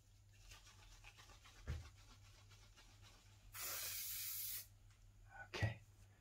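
An aerosol can sprays fixative onto a portrait sketch in one steady hiss of about a second, with faint scratchy rubbing before and after in an otherwise quiet room.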